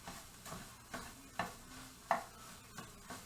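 Pork fried rice browning in a pan with a little extra virgin olive oil, stirred in short scraping bursts every half second or so over a faint, steady sizzle, close and fairly quiet with no talking.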